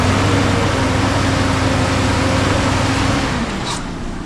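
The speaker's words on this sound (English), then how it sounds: "I'll pull her over to the shop. See if it'll do a burnout." A Chevrolet Suburban with 167,000 miles rumbles close by at a low, steady idle-like drone, then eases off and fades slightly near the end as a burnout attempt fizzles.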